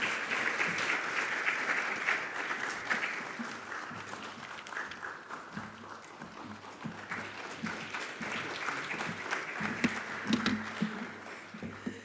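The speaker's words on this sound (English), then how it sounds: "A round of applause for her" Sustained applause from a forum audience at a Namibian public-private event, steady dense clapping filling the room for about twelve seconds with no talk over it.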